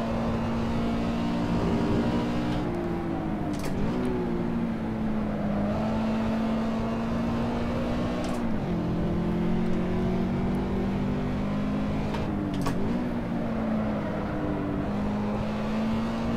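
Toyota GT86 lapping Zandvoort circuit in the Assetto Corsa racing game, its engine droning steadily for over fifteen seconds with brief dips and rises in pitch at shifts and corners, moderately loud with no talking.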